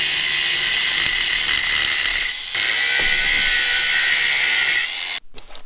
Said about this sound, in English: So I'm just going to cut straight down with the grinder and then just cut into it until it meets it there.